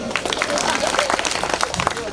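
A live comedy-show audience claps and applauds in a dense, lively burst of handclaps with crowd noise under it.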